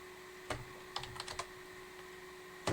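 Computer keyboard typing during a computer science lecture, heard as a few sharp key clicks: a single tap, a quick burst of several keystrokes, then one more tap at the end, close and otherwise quiet.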